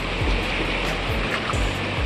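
A river at a riverside in Rishikesh flows with a loud, continuous rushing wash of water, steady and close throughout.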